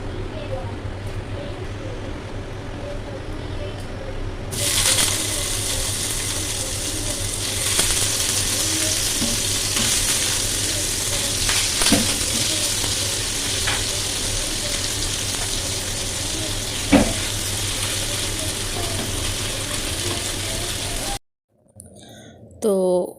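Paneer pieces fry in oil in a wok, producing a steady, loud sizzle that rises sharply and holds for many seconds, with occasional clinks and stirring knocks, then cuts off abruptly near the end.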